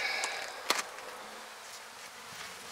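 Honeybees hum faintly around an open topbar hive during an early spring inspection, a soft continuous drone with a brief sharp tap near the start, quiet and without talking.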